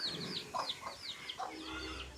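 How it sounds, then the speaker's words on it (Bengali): A chicken clucking nearby, a short series of quick, chirpy clucks and murmurs over a quiet background. "এটি হচ্ছে আমাদের মুরগি"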